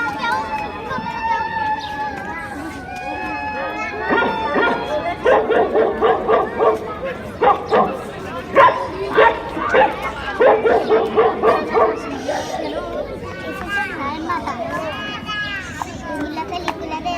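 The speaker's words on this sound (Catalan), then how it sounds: "Van portar tants gossos que els gats quan els van veure van fugir" Dogs bark and yip repeatedly in quick bursts at a school end-of-year stage performance, mixed with children's voices and play sounds.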